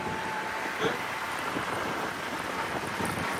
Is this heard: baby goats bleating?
no